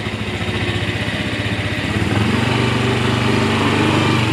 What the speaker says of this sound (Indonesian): Dah datang motor baru yang Bocil. Yang kencang